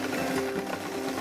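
A sewing machine runs steadily, stitching a waistband onto a skirt at a one-centimetre seam, a continuous close whirring drone with no pauses.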